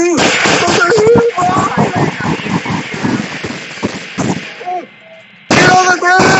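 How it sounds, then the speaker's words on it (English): Gunfire during an active shooting at a police station, heard from a body camera: loud, distorted pops and bursts mixed with shouting voices, then a brief drop in sound before loud noise resumes. "Stop shooting!"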